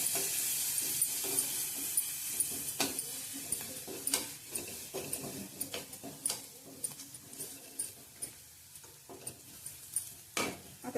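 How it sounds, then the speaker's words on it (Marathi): Spices with asafoetida frying in oil for buttermilk kadhi, a soft continuous hiss of sizzling under repeated sharp ladle taps and scrapes against the pan, fairly quiet and close. "आता हे तेलात चांगलं जिन्नस भाजून घ्यायचंय।"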